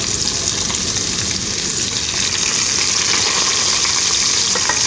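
Curry leaves, onion and green chili fry in hot oil, giving a loud, steady, dense sizzle that crackles without pause.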